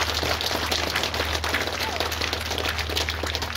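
A crowd claps at a church inauguration in Mamberamo Tengah, rapid overlapping handclaps over a steady low hum, with voices talking through it.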